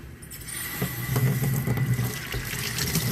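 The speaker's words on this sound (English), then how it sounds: "So the next thing I'm going to do here is take it over to the sink" Tap water runs steadily into a sink while vapor-blasted Yamaha XJ650 Turbo carburetors are rinsed, a close, constant splashing gush with slight shifts as the parts move under the stream.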